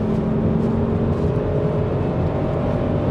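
A turbocharged 1996 Volvo 850R engine pulls under acceleration from inside the car, a steady, loud droning hum with a faint whir held throughout.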